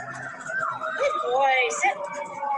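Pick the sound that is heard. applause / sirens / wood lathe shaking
sirens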